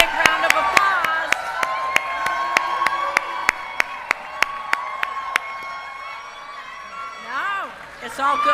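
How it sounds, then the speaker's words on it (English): A crowd at a political campaign event claps and cheers in a steady, loud roar, with a voice briefly rising over the din near the end. "Give him a big round of applause."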